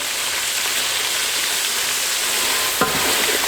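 Beef frying in ghee with garam masala and nutmeg-mace powder sizzles steadily as it is stirred, with a soft scrape of the spoon near the end.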